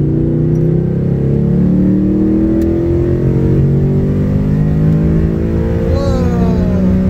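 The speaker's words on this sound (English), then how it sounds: "3 more degrees at wide open throttle with the same exact tune" A Ford Coyote V8 Mustang roars hard under wide open throttle, its engine note climbing steadily in pitch, loud and close from inside the car, with a brief excited shout near the end.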